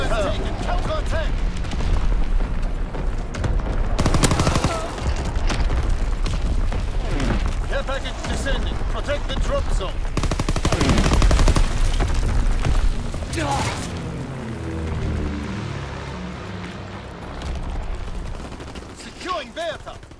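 Artillery battery firing in the World War II shooter Call of Duty WW2, heavy booming blasts and rumbling impacts layered over battle noise and mechanical clatter, with radio-style voices talking throughout the dense, loud mix.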